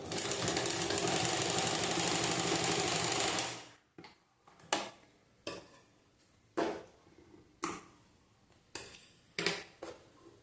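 A sewing machine stitches the front panel of a blouse, running loud and steady for about four seconds, then falling to a series of short, evenly spaced bursts as the fabric is guided along.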